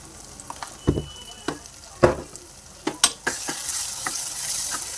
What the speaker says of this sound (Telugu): వేసుకొని మిక్స్ చేసుకొని ఇప్పుడు ఇందులోనే ఇందాక వేపిన ఎండు చేప ముక్కలు వేసేసుకున్నాం